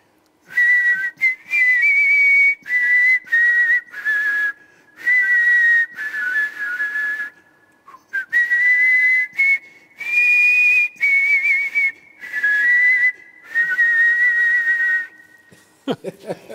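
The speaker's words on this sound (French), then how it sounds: "J'essaie de siffler deux choses en même temps." Sustained high whistling in long phrases with short breaks, two pitches sounding together, close and clear with little else around.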